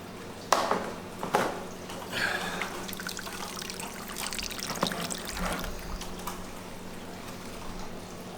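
Aquarium water draining through a gravel vacuum hose into a bucket during tank maintenance, a close trickling, splashing pour with a few sharp knocks early on, steady throughout with no talking.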